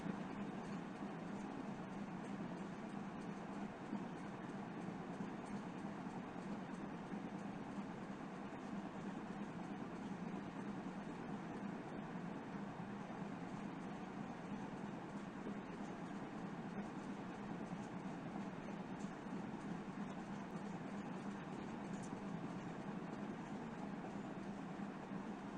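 A warehouse picking robot rolls along rails with a continuous low mechanical rumble and hum, faint and steady.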